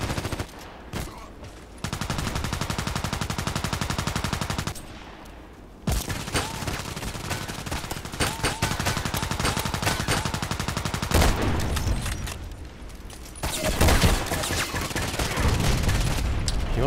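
Sniper rifle shots ring out in a video game on the Interchange map, with loud, sharp reports separated by stretches of continuous gunfire and game sound, close and dense throughout.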